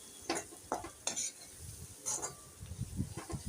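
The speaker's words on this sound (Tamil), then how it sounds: "ரெண்டுத்தையும் போட்டு நல்லா சிம்மிலே வதக்க ஆரம்பிச்சிடுங்க" Drumstick leaves sautéed over a low flame, with soft spatula stirs and scrapes in a pan above a faint, gentle sizzle, quiet and close.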